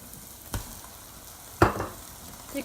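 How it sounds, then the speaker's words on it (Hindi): Chicken frying in a karahi, a low background sizzle broken by two sharp bursts as pieces hit the hot oil, close and brief. "और अब इस स्टेज पर हम इसमें शामिल कर देते हैं चिकन"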